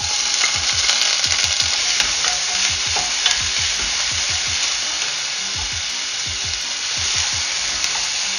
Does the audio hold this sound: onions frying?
yes